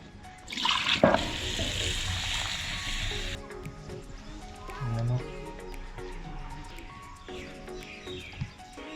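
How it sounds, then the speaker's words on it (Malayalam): Silkworms being washed in water in a Karbi village kitchen in Assam before cooking, with sloshing and splashing that is loud early on, then softer rinsing and clattering, while voices talk nearby. "നമ്മുടെ മീൻ കഴുകുന്ന പോലെ കഴുകുന്നുണ്ട്."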